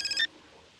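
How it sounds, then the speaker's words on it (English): Brief tail of a telephone ring in the video game Gray Matter, a short bright electronic tone that cuts off quickly into quiet room tone. "Oh, we're getting a phone call."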